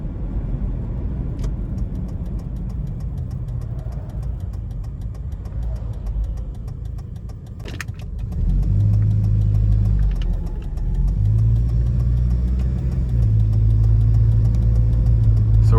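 A 2001 Toyota Tacoma regular cab with 228K miles pulls onto an interstate, its engine droning low and steady from inside the cab, then swelling louder as throttle is added and the revs climb in stages.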